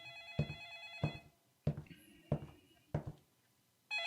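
A telephone rings in the video game Gone in November, five evenly spaced electronic ring bursts with short pauses between them, clear and close, before the ringing cuts off.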